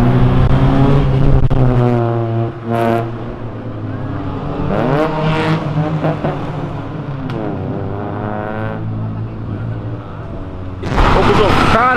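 A Mitsubishi Evo revs hard again and again, its engine pitch climbing and falling in repeated surges, loud and close, with voices around it.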